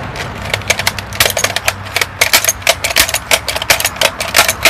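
A Nerf toy gun is handled and cocked back, producing a dense run of sharp plastic clicks and rattles close up, loud and irregular with no talk.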